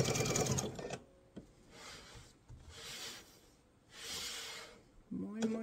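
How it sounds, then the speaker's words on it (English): A sewing machine stitches a mesh tote in several short, even runs separated by pauses, with rustling fabric handling between the bursts and a louder clatter at the start and end. "I'll sew back over to this side because I need to sew down the other side."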